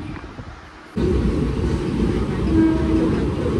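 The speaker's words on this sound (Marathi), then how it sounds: "घाईघाईतच आहोत, आमची ट्रेन जाईल" A subway train rumbles past with a steady, loud low roar that starts abruptly and continues, with faint metallic squeals over it.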